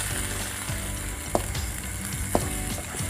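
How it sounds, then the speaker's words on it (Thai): Squid with long beans and fresh chili stir-fried in a pan, a constant close sizzle broken by two sharp spatula knocks against the pan. "คลุกเคล้าให้ทุกอย่างเข้ากันเลยครับ"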